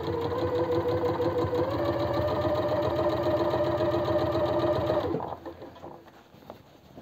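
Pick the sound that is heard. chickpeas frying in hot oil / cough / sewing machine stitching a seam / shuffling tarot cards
sewing machine stitching a seam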